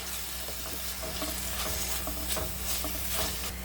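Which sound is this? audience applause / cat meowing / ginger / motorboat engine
ginger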